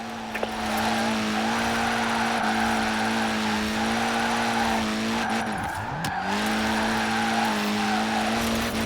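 Car drifting in a power slide in Forza Horizon 4, steady loud engine drone with tire squeal and a brief skid burst midway, continuous throughout.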